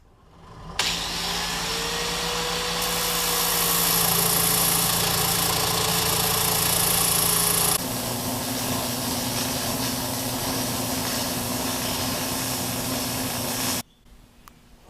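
Metal circles for a drift trike being turned down to size on a lathe, a steady motor whine with a sliding cutting tone, running loud and alone before stopping abruptly near the end.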